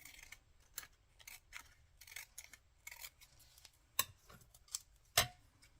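Scissors cut paper for a crafting project, a rapid series of crisp snips with a few sharper clicks, close and quiet with no talk.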